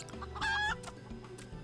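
Chickens in the Final Fantasy XIV game cluck over a steady game backdrop, with one clear, louder squawking call in the middle and softer clucks around it.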